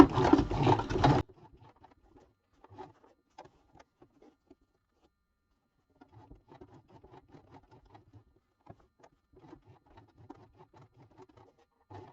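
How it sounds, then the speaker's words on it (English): A sewing machine turned slowly by its hand wheel stitches a silhouette onto fabric, producing sparse, faint ticks and soft mechanical patter after a brief louder rustle at the start. "And I'm just using the hand wheel to stitch this part."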